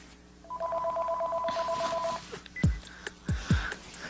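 A telephone rings with an incoming call, a steady electronic tone pattern repeating for nearly two seconds, followed by clicks and handling thumps as the receiver is picked up, fairly close and clear.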